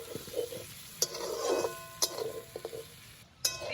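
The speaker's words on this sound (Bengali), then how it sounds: "পেঁয়াজটাও এর সঙ্গে আমি ভেজে নেব।" Onion frying with half-cooked jackfruit in a pan for a jackfruit-prawn curry, a low steady sizzle broken by a few sharp clinks of a spatula against the pan.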